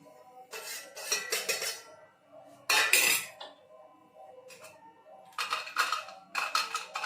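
Bursts of metal clinking and scraping as a spoon stirs a ghee mixture in a pot, in short clusters with quiet pauses, fairly close and alone.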